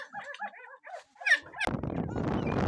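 Week-old puppies from a litter of eight, orphaned and bottle-fed, whimper and squeal in a run of high, wavering cries, joined near the end by a burst of louder, busier yelping and rustling close by.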